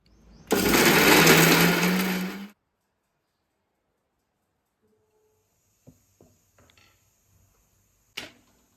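An electric grinder whirs loudly for about two seconds while grinding roasted spices and coriander, then stops abruptly, leaving near silence broken by a few faint clicks and taps.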